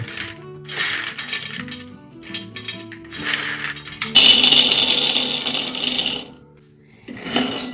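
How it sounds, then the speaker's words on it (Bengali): Raw peanuts being dry-roasted in a pan for laddoos, a close rattling clatter of nuts shaken and stirred against the metal, coming in uneven bursts with a louder stretch midway and then a brief lull. "চলো এবার বাদামটাকে ভেজে নেব"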